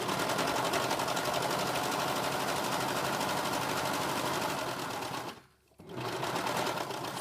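A serger sewing machine stitching the edge of a flannel washcloth, running as a loud, steady rapid whir that stops briefly near the end, then starts again for a few more stitches.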